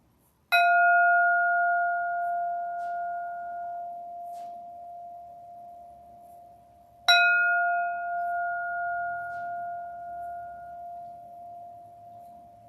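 A meditation bell is struck twice in a quiet room, each strike ringing out clearly and then fading slowly over several seconds, the second strike coming about six seconds after the first.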